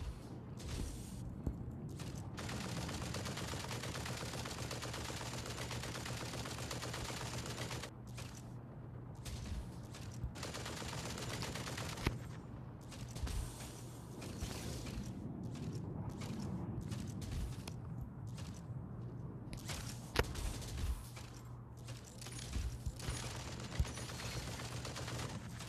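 Turret gunfire rattles in the video game Voltaic RPG, with bursts of shots and mechanical clatter over a steady low hum that continues for most of the scene.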